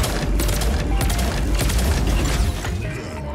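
A pair of 16-tube missile racks on a mech in Mech Arena fire a dense, loud salvo of rapid launches and impacts, a continuous rattling roar that barely lets up.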